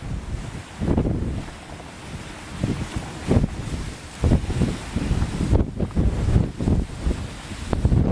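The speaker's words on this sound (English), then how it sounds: "the wind is blowing like crazy" Strong wind buffets the microphone at a cliff edge high above a big drop, coming as loud rumbling gusts that rise and fall unevenly.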